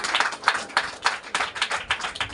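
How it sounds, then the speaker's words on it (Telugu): A church congregation claps loudly in a series of sharp, roughly regular hand claps, about a dozen in quick succession, close and filling the room. "వచ్చినటువంటి వారు గట్టిగా క్లాప్స్ కొట్టండి"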